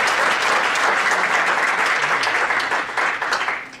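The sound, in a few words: audience applause at council meeting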